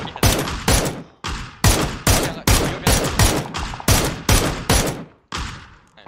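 Loud gunfire in a shooter video game rings out as a run of about a dozen heavy, evenly spaced shots, each with a decaying echo, close and without talk.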